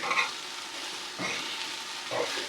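Onions sizzling and slowly caramelizing in a pan, a steady soft frying hiss with a couple of brief stirring scrapes, close and moderately quiet, no talk.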